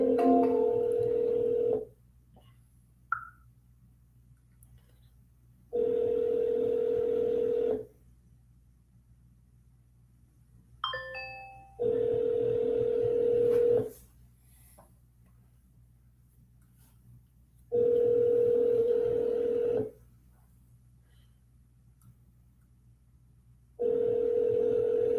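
A phone call rings out over the line before being forwarded, five evenly spaced ring bursts about two seconds long, each separated by several seconds of near silence, with a brief clatter between.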